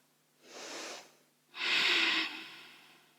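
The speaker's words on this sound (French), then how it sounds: "On inspire avec la cage thoracique, respiration Ujjayi." Ujjayi yoga breathing in a quiet room: two close, breathy, throat-constricted breaths, a short one followed by a longer, stronger one, with no talking.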